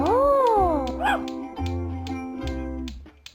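A dog yips and whines in short rising and falling cries, several bursts in a row, fairly close, with a voice faintly in the background.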